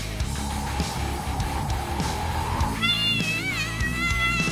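An animated cat meows in a series of rising, wavering calls that come in partway through, loud over a busy cartoon soundtrack with rumbling effects.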